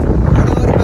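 Cold sea wind on the shore buffets the microphone in a brief, loud, low roaring rush.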